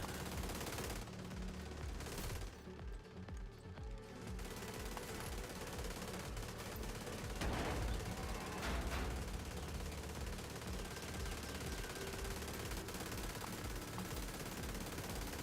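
Sustained automatic weapon fire in the shooter The Division 2, loud rapid bursts rattling almost without pause across the whole stretch, with brief gaps and a few sharper shots.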